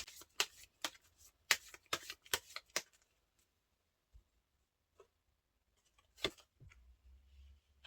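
Tarot cards are shuffled and handled in quick, crisp flicking and riffling bursts, close and quiet, clustered early and then thinning to scattered single taps and rustles with near silence between.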